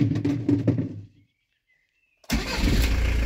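A van engine runs briefly, cuts off, then after a second of silence the starter cranks and the engine catches and roars steadily, close by.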